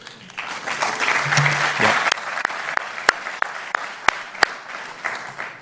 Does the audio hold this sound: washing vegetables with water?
no